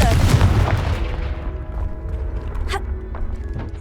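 A Confringo fire spell blast in the video game Hogwarts Legacy: a loud burst at the start that fades into a rumbling tail, with lingering crackle and a few faint clanks.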